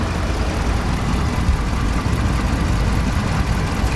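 A 5.7 HEMI V8 idles with a tick and a misfire, giving a steady, close, low rumble with an uneven, slightly knocking texture throughout.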